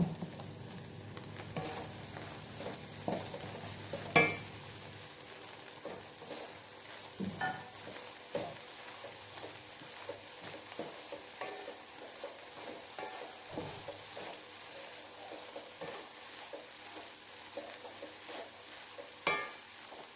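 Nasi goreng babat (fried rice with beef tripe) sizzles steadily in a pan, with a spatula scraping and clinking through it now and then. The sound is close and continuous, with no talk.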